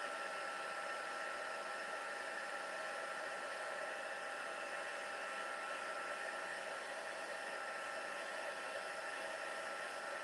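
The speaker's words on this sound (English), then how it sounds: "So you need something with low wind or low airflow, but hot, but not too hot." A low-airflow crafting heat tool blows hot air onto embossing powder on black card, a loud, continuous, even whooshing hum held throughout with no variation or speech.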